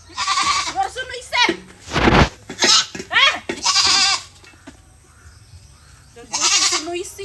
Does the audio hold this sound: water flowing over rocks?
no